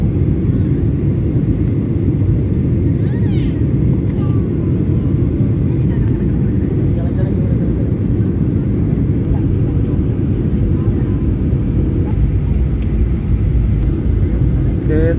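A steady, loud roar of cabin noise inside a Lion Air airliner descending to land at Lombok, a continuous low rumble of engines and airflow with no break and no speech.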